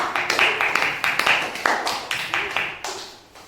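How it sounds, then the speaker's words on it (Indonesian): A classroom applauds for a student group, a dense patter of many hands clapping fairly close and steady, tapering off in the final second. "Tepuk tangan untuk kelompok 2."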